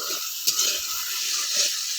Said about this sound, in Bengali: এইভাবে গ্রেভিটা নাড়তে থাকলাম।